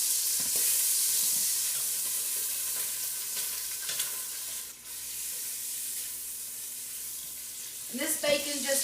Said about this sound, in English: I'm cooking some bacon right now